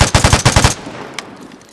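An M16-like rifle in Vigor fires a rapid burst of about seven loud, closely spaced shots, then stops. A faint tail of noise and one small click follow.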